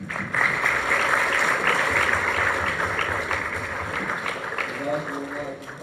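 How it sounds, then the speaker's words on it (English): A university Islamic society audience claps in a sustained burst of applause at a talk that stays steady, then slowly thins toward the end. "Let's give him another round of applause."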